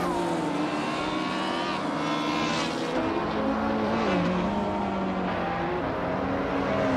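A 2010 Opel Corsa race car engine in a racing video game drones loudly and steadily, its revs rising and falling in pitch throughout, with no talk over it.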